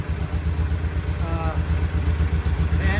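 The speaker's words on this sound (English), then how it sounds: "Right there it sits, idling very nicely." Vintage British motorcycle engine idling in a workshop, a steady low, even thumping pulse up close, with faint speech-like sounds over it.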